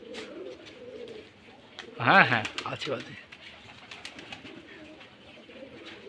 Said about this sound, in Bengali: এটা বাজি এলাকা কবুতর